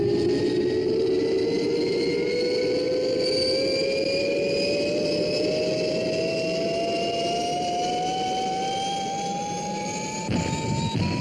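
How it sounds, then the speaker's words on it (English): Fireball XL5 spaceship lifting off: a loud, steady engine roar under a whine that climbs slowly in pitch for about eleven seconds, easing briefly near the end before surging again. "Stand by for liftoff."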